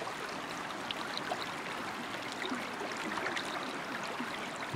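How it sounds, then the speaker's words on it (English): Loud creek water in the hunting game Way of the Hunter, a steady broadband rush of flowing stream that fills the whole clip without letup, with no other sounds rising above it. "You see what I mean about the loud creeks?"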